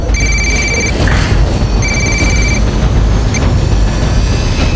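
Telephone ringing loudly in two electronic double-trill bursts separated by a pause, over a steady background hum, in a tense scene from a Crime Patrol episode set in Mumbai.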